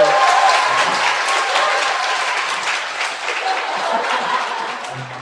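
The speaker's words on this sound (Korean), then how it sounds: "큰일하고 돌아오신 의원님께 박수 부탁드립니다." An audience gives a lawmaker a loud round of applause at a talk, a dense continuous wash of many hands clapping that holds strong for several seconds and eases slightly toward the end.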